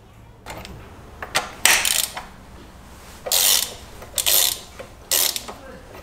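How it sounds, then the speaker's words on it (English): Ratchet with a 15mm socket loosening engine mount bolts on a Ford Escape, bursts of rapid clicking pawl ratcheting in short spurts separated by pauses, close and crisp with no talk. "We're going to go ahead and loosen these 3 bolts, and to do that we're going to use a"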